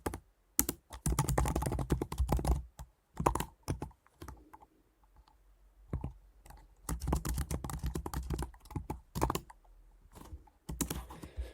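Python code being typed on a computer keyboard, close, crisp bursts of rapid key clicks broken by short pauses, with no talking.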